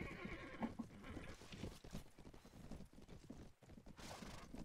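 Horse neighing amid a battle in the medieval game Mount & Blade: Warband, with clip-clop hooves and clashing noise filling the background throughout.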